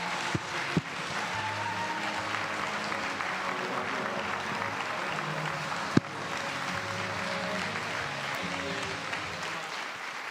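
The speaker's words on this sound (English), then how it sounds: "Put your hands together, stand up, round of applause, standing ovation for Marcus Pearce." A large audience gives a standing ovation to speaker Marcus Pearce, loud, dense applause holding steady for several seconds with a couple of sharper claps near the start and a brief knock midway.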